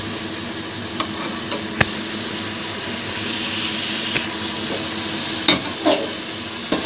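Ash gourd curry is stirred in a pan over low to medium heat, with a soft continuous sizzle and occasional sharp scraping strokes and taps of the spoon, close and fairly loud.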